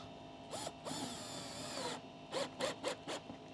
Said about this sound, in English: I'm using some big long screws I have into my table.